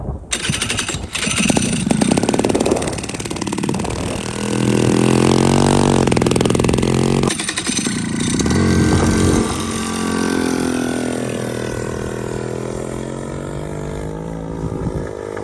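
A Rotax Max racing kart engine cranks, catches and runs, its harsh two-stroke buzz rising in bursts of revving and settling to a rough idle, loud and close throughout.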